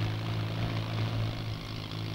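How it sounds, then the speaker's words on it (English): A rescue helicopter lifts off, its engine and rotor giving a steady, faint drone with a constant low hum and no voices. "The helicopter is off within seconds."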